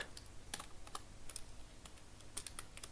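Steady typing on a computer keyboard while writing a document in InPage, with irregular clusters of close, crisp key clicks and brief pauses across a few seconds of quiet room tone, no talking.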